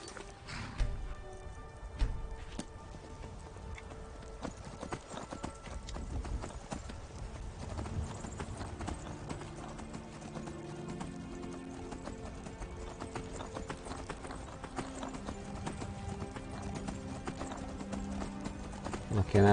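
Horse hooves clip-clop in a quick, steady galloping rhythm in The Elder Scrolls V: Skyrim, with a brief whinny near the start and faint mechanical rattling behind.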